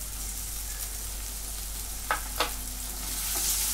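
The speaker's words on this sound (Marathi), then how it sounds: "आता ही पण परतून घेते" Ginger garlic paste fries in a pan with a steady low sizzle, two quick spatula scrapes in the middle and a slightly louder hiss toward the end.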